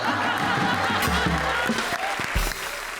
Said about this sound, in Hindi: और तालियां भाई तालियां अर्चना बेन के लिए है